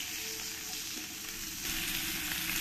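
Cut potatoes frying in oil to a reddish brown, a steady hissing sizzle that swells slightly louder partway through, close and alone with no talking.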